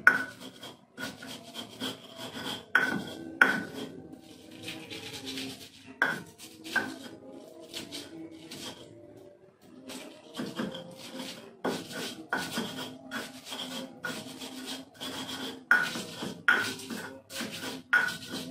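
Spice paste for siomay kubis is ground by hand, producing repeated rasping, scraping strokes with clinking knocks of the grinding tools, loud and uneven in rhythm and continuing throughout, with no talking.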